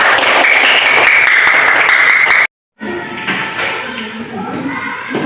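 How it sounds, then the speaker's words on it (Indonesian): Classroom applause fills the first half with dense, continuous clapping, breaks off in a short silence, then gives way to quieter room noise and talk. "tepuk tangan untuk nomor 2, Pak."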